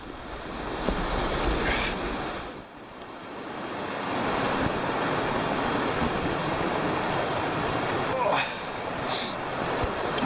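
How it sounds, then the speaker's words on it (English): Continuous broad rushing of a creek waterfall close by on Harper Creek in Wilson Creek Wilderness, loud and steady like a cascading creek, with brief wind buffeting and a dip in the middle. "the pretty awesome waterfall that we got to listen to all night"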